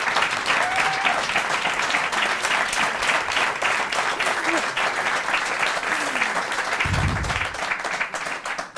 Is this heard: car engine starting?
no